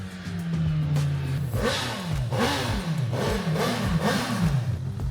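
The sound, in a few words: motorcycle engine revving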